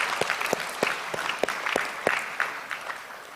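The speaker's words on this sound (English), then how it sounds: "one more round of applause for everybody" Applause at a football banquet: individual claps stand out in a steady, somewhat sparse rhythm, spread over a few seconds without voices.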